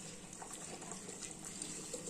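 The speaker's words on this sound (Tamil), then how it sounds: "இப்போ சரி தண்ணி கொதிக்குது அரிசியை போட்டுக்கலாம்" Water bubbles and burbles continuously in a pot at a low level, a soft, steady simmer with small pops throughout.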